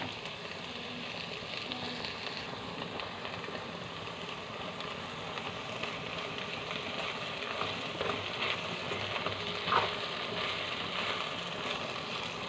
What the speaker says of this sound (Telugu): ఇట్లనే మీడియం ఫ్లేమ్లో వేయించుకోవాలి